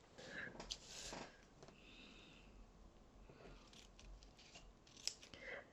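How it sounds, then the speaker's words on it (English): Scissors trimming craft paper for a Christmas stained-glass window project: a few quiet, close snips and crisp paper rustles spaced across a hushed background. "I can just snip it a little smaller."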